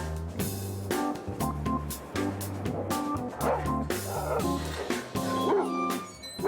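Several dogs at a Tel Aviv dog park near Gan Meir bark repeatedly in close, overlapping bursts, with a few higher yips mixed in.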